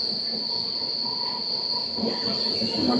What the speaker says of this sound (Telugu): మలుపులు మలుపులు మలుపులు తిరుగుతుంది ట్రైన్ ఒక స్నేక్ లాగా